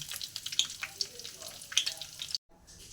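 Whole cumin, dried chilies and bay leaves frying in oil in a kadai: a close, bright crackling sizzle with scattered pops that cuts off abruptly near the end.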